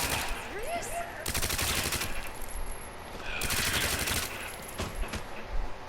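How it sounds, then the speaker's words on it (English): SMG fire in the Resident Evil 2 Remake, two rapid automatic bursts of a second or two each with quieter game sounds and a few scattered impacts between them. "go back to work with the SMG"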